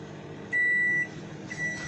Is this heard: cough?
no